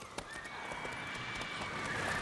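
Rapid hoofbeats from Geralt's horse Roach in The Witcher 3, a quick steady clip-clop at a gallop over a bed of ambient game noise, with a brief whinny-like tone running through.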